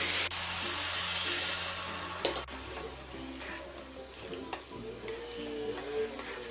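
Boiling salted water is poured onto roasted rice for egg biryani and hits with a loud, close hissing sizzle. The burst fades into quieter bubbling, with faint stirring and clinks after it.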